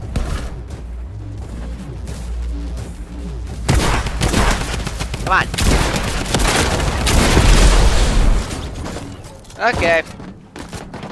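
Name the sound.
gunfire in a video game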